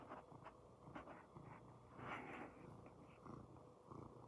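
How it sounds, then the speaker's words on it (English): A cat purrs softly and steadily up close, a low continuous rumble with slight rhythmic swells. "He's purring."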